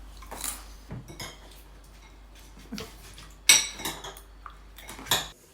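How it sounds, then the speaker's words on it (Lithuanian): Cooked bow-tie pasta tipped into a metal baking tray, giving a few scattered clattering knocks and scrapes at close range, with quiet gaps between them and no voices. "Į kepimo skardą suverčiu išvirtus kaspinėlių formos makaronus."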